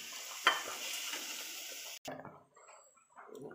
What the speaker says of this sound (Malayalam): കറിവേപ്പിലയും കൂടെ ഇട്ട് കൊടുത്തിട്ട് നന്നായിട്ട് ഇളക്കി കൊടുക്കാം നന്നായിട്ട് നന്നായിട്ട് വഴറ്റി കൊടുക്കാം